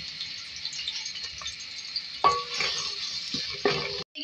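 Chopped onion and whole cumin seeds fry in hot oil with a steady, close sizzle, while a spoon stirs and scrapes through them in a few brief bursts. Nobody speaks.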